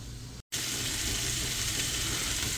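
Smoked sausage and potatoes fry in a pan with a steady, close hiss of sizzling oil, broken only by a brief gap near the start, with no voices.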